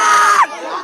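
A crowd gathered for a protest over poor construction at a railway station shouts together in a short, loud burst of many voices close by.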